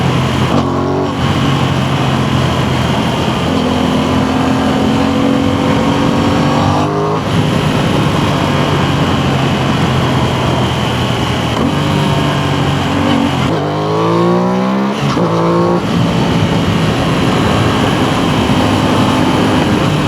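An Aprilia Tuono 660 motorcycle engine drones loudly and steadily while riding, its pitch climbing through gear changes with brief dips between shifts and strong wind rush throughout.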